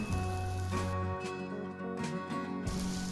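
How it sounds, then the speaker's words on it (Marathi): Puran poli flatbread crisping in oil on a hot pan gives a steady close sizzle with faint clicking and scraping, no voices. "तेलावरची पोळी असे छान अशी खरपूस भाजून घ्यायची आहे"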